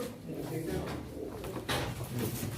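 Pigeons coo at a pigeon auction, with soft low calls mixed into a noisy room and voices talking over them.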